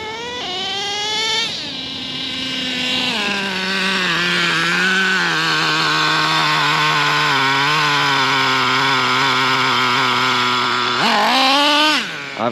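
The nitro engine of a Traxxas T-Maxx RC truck screams at high RPM, close and loud, its pitch swooping up, dipping and holding in a sustained whine before a final surge, with no talk over it.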